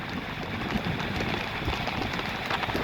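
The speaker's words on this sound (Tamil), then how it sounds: "தண்ணியில போற அளவுக்கு மழை பெய்யுது" Heavy rain pours down in Tiruppur, a steady, dense, close hiss of water drumming on surfaces that stays level and unbroken throughout, with no voices.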